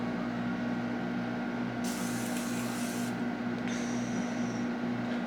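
Morphe setting spray hisses onto a face in two close, airy bursts, the first longer and the second shorter, over a steady low background hum.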